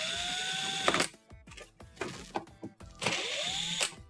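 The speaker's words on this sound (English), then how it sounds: "To reinstall the control board, you're going to start by loosening these 2 side screws here." A small power driver with a T10 Torx bit backs out screws on a KitchenAid dishwasher control board in two short rising whirs, with faint clicks and handling noise between them.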